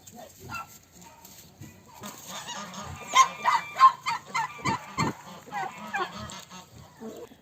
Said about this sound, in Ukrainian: В одне гніздо примощуються і кури, і гуси.